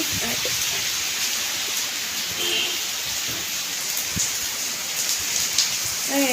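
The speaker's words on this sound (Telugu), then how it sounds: "అసలు జోరుగా వస్తూ ఉంది చూడండి చూపిస్తాను" Heavy rain pours down steadily, a dense, loud hiss of drops striking surfaces without letup.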